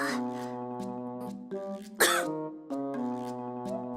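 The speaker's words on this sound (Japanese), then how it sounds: "You just coughed, though, twice." A visual novel character gives a cough and a throat-clearing burst amid a sustained musical backdrop with steady tonal notes.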